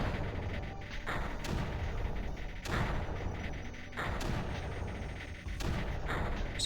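Mortars fire in the strategy video game Creeper World as a steady series of muffled booming thumps, several spaced about a second apart, over a continuous low rumble of game sound.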